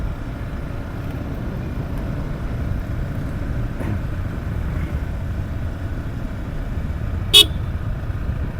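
A single short, sharp vehicle horn blast cuts through the steady drone of a motor vehicle climbing a curving mountain gap road.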